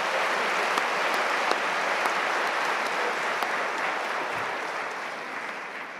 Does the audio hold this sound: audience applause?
yes